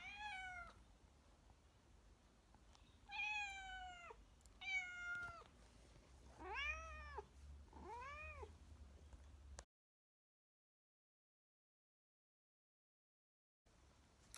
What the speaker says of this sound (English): There's my cat. She's just come in at the end to tell everyone how hungry she is.